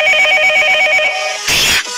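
A cartoon telephone rings in a bright, steady electronic trill that repeats for over a second, then a short burst of noisier sound, loud and close with no voices.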